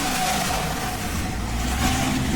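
A 1965 supercharged Ford Mustang engine runs loud and close while driving, a steady, rich rumble with a low droning tone that holds throughout and swells slightly toward the end, with no voices.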